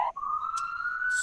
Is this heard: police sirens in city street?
yes